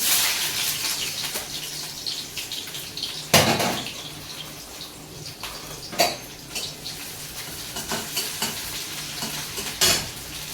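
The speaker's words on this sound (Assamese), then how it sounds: "এনেকৈ ফ্ৰাই কৰি লওঁ অলপ ফ্ৰাই কৰি ল'লে খাই ভাল লাগে" Onions fry in oil with dried chillies in a pan, giving a steady crackling sizzle broken by several sharp stirring scrapes and louder bursts.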